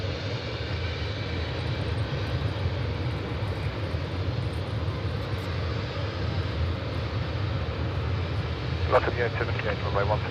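An aircraft taking off from runway 16 right at Sydney Airport gives a broad, steady engine roar that stays loud throughout, with a brief clatter near the end.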